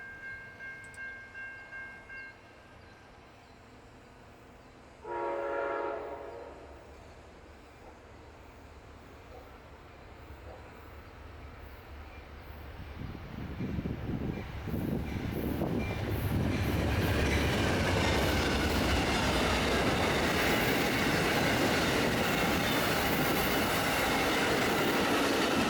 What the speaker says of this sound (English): that really gives a sense of the speed that the train was moving at